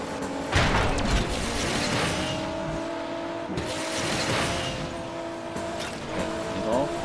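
A Maserati in the Asphalt Legends racing game drives with a sustained engine drone, and harmonic tones shift as it accelerates, along with whooshing sweeps and brief skid-like bursts.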